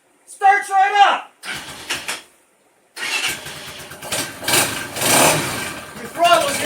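A Tao Motor Rhino 250 ATV engine cranks and catches, then runs with a steady rough idle close by, with brief pauses between bursts and a person talking over parts of it.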